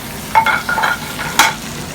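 Spinach sautéing in olive oil with garlic, a close soft sizzle broken by a few short stirring scrapes of a utensil in the pan, with no talking.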